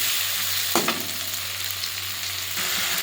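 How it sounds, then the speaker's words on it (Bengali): Ginger, cumin and coriander paste with chili and turmeric powder sautéed in a pan, a continuous close sizzle with a couple of brief spoon scrapes as the spices are stirred. "এবারে মশলাটা ভালো করে কষিয়ে নেব।"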